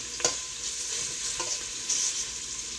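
Trimmed, fatty beef roast pieces frying in hot oil for carne guisada, a steady close sizzle with a few sharp spatters and stirring knocks, no voices.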